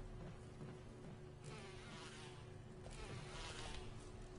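Bees buzz steadily in a video game, a faint, continuous droning hum that swells slightly partway through, with no voices over it.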